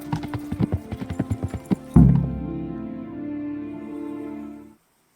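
Horse hooves from Kingdom Come: Deliverance clop in a quick, even rhythm of about a dozen steps, then a heavy thump and a sustained tonal rumble that fades out.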